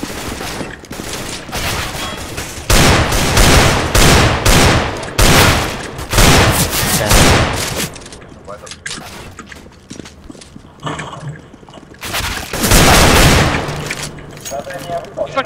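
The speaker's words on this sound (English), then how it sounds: "I kept on shooting so fucking much, dude" Rapid bursts of gunfire from the video game CS:GO, loud and dense in clustered volleys with short gaps, with voices talking over parts of it.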